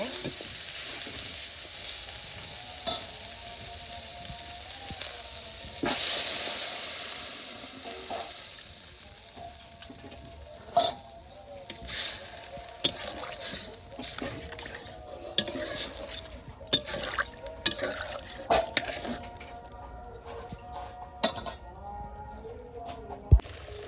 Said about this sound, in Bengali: কষানো হয়ে গেছে এখন জল দিয়ে দিব